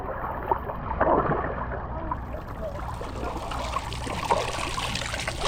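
Water running from the effects at Blizzard Beach water park, a steady close rushing and splashing with gurgling trickles that keeps on without pause and without voices.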